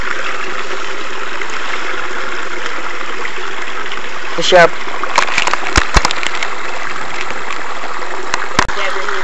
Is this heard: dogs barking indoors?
no